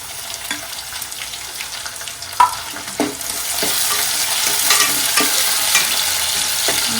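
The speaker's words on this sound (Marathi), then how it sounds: "आपला कांदा थोडा लाल झालेला आहे आता आपण टॅमॅटो घालूया" Onion and tomato fry in a pan, first with a light crackle and a few stirring knocks, then with a fuller, steady sizzle that carries close and alone through the rest of the clip.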